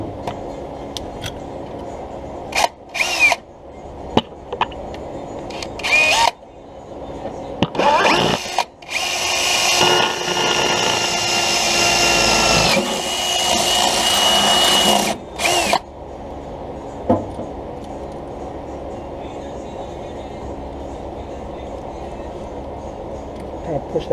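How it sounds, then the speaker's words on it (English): A power drill bores a hole into a truck undercarriage, whirring in several short bursts and one long sustained run that cuts out abruptly, with brief clicks and handling noises around it. "first thing I'm gonna do is drill a hole right there"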